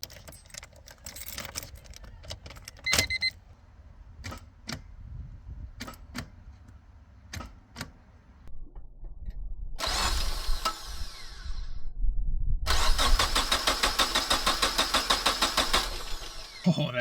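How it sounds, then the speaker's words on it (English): A Honda K24 swap engine cranks over in two long bursts of rapid, rhythmic starter churning, preceded by scattered clicks and clatter of work nearby. "so we have it cranking over"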